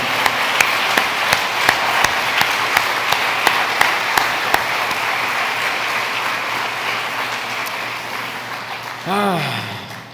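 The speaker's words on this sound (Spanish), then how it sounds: "¿Le puedes dar un aplauso al Señor?" Church congregation bursts into sustained applause during a Spanish-language sermon, with sharp individual claps standing out early, then a dense wash of clapping that thins out before a brief rising tonal sound at the end.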